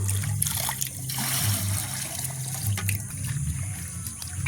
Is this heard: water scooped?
yes